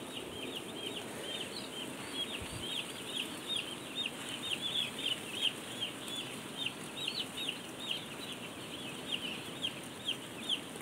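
Many day-old broiler chicks peep continuously in a closed-house poultry barn, their dense high chirping steady and close over a constant low ventilation hum, with no talk.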